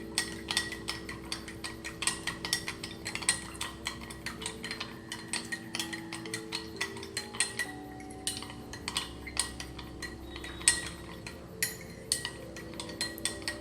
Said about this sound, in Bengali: মিক্সচারটা ভালোভাবে মিশে যাওয়া পর্যন্ত এটাকে স্টির করতে হবে।